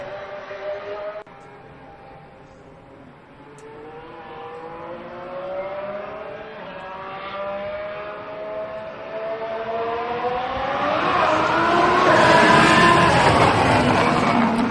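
Formula 1 car with a hybrid engine passing by, its engine note climbing through rising gear sweeps and growing louder as it nears, with a faint whine over the roar.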